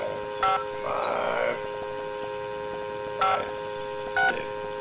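Payphone keypad tones in the video game Sneaky Sasquatch, a few short separate beeps dialed one after another, with a brief longer tone between them, over a steady low in-game background hum.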